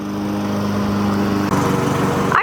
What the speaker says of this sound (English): Mowing the yard?